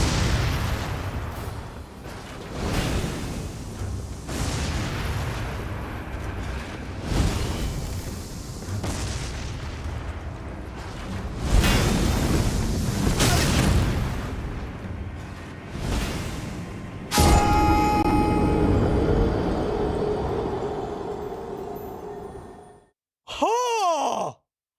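A big in-game explosion in Elden Ring with the Convergence mod, a long loud roaring rumble that builds and sustains before cutting off, followed by a short sharp burst.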